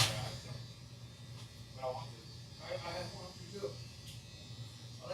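An electric razor buzzes close by while lining up a fine-hair fade haircut, a low steady hum running through the whole stretch with short bursts of brushing and handling noise over it.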